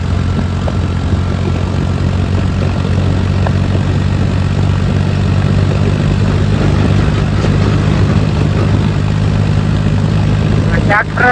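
A tractor engine drones at night on a ghat mountain road, a steady low rumble throughout with faint voices briefly beneath it.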